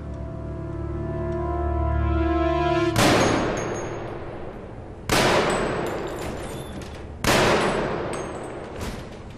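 In a TV crime drama scene, three loud gunshots ring out about two seconds apart, each a sharp crack with a ringing tail, following a low sustained tone.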